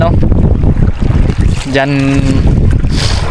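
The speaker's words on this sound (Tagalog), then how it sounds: "Dito na naman po tayo sa laot palutang-lutang" A small wooden outrigger fishing boat drifts on the open sea at night while out squid fishing, with steady wind and water wash throughout and a brief humming tone rising midway.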